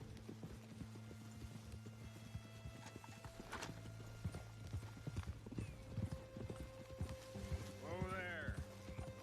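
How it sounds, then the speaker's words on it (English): Horse hooves clip-clop at a gallop in Red Dead Redemption 2, a steady rhythmic pounding up close, with a whinny near the end over low background music and ambience. "Mount up then, Morgan."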